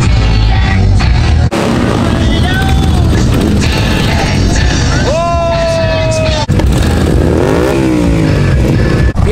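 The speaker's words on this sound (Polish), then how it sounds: "taki głośny przejazd motocykli" A loud parade of motorcycles rolls past on local roads in the Galewice area, engines roaring and revving close by in a dense, continuous din, with shifting whines and rumbles as machines go by and people talking.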